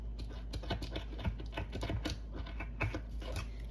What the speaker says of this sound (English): this is really thick tape and my scissors aren't the best